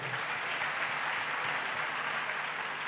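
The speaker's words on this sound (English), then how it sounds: "Give Jesus a clap offering." A church congregation claps and cheers in a continuous wash of applause, even and moderately loud, with no distinct individual claps standing out.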